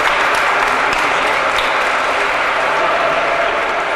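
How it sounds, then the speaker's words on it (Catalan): A room full of people applauding at a talk in a library in Valencia, steady dense clapping at full volume throughout. "No aplaudiu encara."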